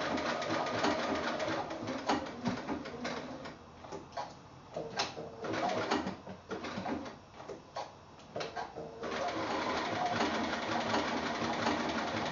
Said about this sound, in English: So I finished stitching my block.